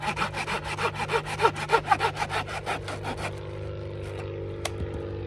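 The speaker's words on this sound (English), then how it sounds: "So I'm going to start cutting some firewood up now." Hand saw cutting firewood on a wooden block at a rainy campsite, a steady run of rhythmic rasping strokes up close before it stops, leaving quiet background.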